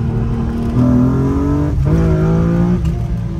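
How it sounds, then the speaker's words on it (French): A BMW M3 E36 engine revs and accelerates loudly from inside the car, its pitch climbing through the gears with brief dips at each shift, strong and close throughout. "C'est surtout le bruit du moteur."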